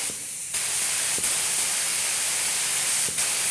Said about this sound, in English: So we're pretty much ready with what we got going on here to start spraying.